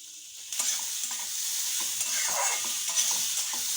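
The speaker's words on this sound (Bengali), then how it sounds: "আর দেবো কড়াইশুঁটি, এটাকে আমি ভালো করে ফ্রাই করে নেব।" Green peas fry in oil in a pan while being stirred, a steady close hiss of sizzling with scraping and rustling of the stirring, and no talking.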